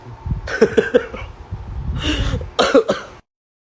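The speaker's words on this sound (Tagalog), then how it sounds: "Sorry, suminga ako." A person blows their nose in a few sharp, wet bursts close to the microphone, with a short pause between them.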